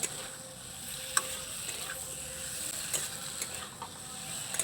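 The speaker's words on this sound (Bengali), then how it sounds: "এইভাবে একটু নাড়িয়ে নিলাম" A spoon stirring potato curry in a pan, soft scraping and faint sizzling with a few sharp clinks against the pan, steady and close, without any talking.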